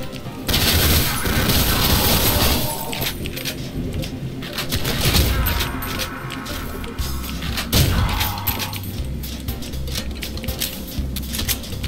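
Dense, continuous gunfire and crashing impacts from the Ion Fury first-person shooter game, loud and busy throughout with repeated bursts layered over game sound effects.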